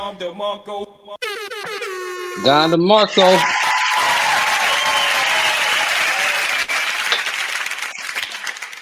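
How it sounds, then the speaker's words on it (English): An audience claps loudly and steadily at a studio dinner show. Blaring air-horn blasts play first, then the applause takes over and continues to the end. "Turn them claps down just a little bit."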